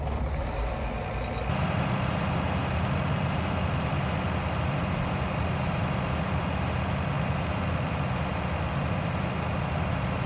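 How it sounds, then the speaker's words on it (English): A farm tractor in Farming Simulator 19 runs with its PTO engaged, and the engine drone jumps to higher revs after a second. It then holds a loud, steady roar close by with no talk. "I like that the RPMs on the tractor increase when the PTO is on."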